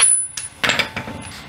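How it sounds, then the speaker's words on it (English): A hammer gently tapping stuck strut bolts on a 2013 Subaru Outback front suspension, a few light, sharp metallic taps spaced unevenly over a second and a half. "If they're a little stuck, all you gotta do is just gently tap them out with a hammer."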